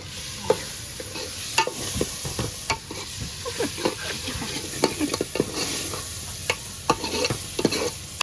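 Whole garlic cloves fry in hot oil with cumin-coriander powder for a Gujarati falva dish, giving a steady close sizzle broken by frequent scraping and stirring clicks from a spoon against the pan.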